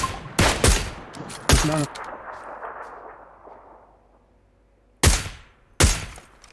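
Video game gunfire cracks out in sharp, loud shots: a quick cluster early on, a ringing report that echoes and fades away, then two more spaced shots near the end, with a brief spoken remark among them.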